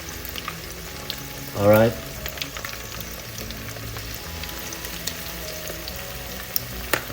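Eight pieces of karaage chicken fry in hot oil with a steady, fine bubbling sizzle close by; someone speaks briefly.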